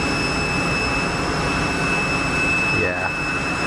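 A Pilatus PC-12 turboprop on final approach at Geneva Airport gives a steady engine drone with a high tonal whine, heard at a distance over the airport's background rumble, with a brief pitch sweep near the end.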